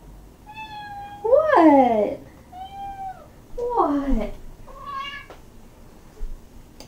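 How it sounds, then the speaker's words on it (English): A house cat meows repeatedly up close indoors, several long rising-and-falling cries spaced apart, while a person speaks briefly between them. "he just came in the room meowing"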